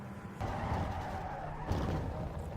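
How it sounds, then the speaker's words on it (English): Straight four-cylinder engine of the Manta car racing in Need for Speed Underground 2, a steady buzzing engine drone with tire skidding and squeal, loud and close throughout. "So 4-cylinder engine straight, very familiar to me, and this sounds like one"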